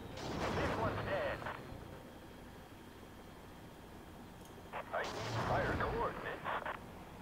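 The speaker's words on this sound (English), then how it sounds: "That is one hell of a barrage." Heavy artillery barrage in the strategy game Act of Aggression: two bursts of booming, crackling explosions, one at the start and a louder one later, separated by a quieter rumbling lull.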